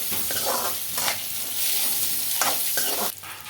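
Onions and green chilli frying in a pan for Maggi Manchurian, a loud, continuous sizzle broken by repeated bursts of scraping as the spatula stirs, with no voices.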